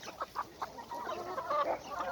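Several chickens cluck close by in short, overlapping bursts that build into a busy chorus.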